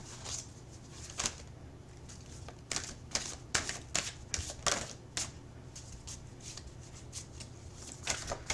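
Tarot cards are shuffled in soft, quick bursts of riffling and flicking, about a dozen short crisp rustles at an uneven rhythm, close but quiet and heard alone without talking.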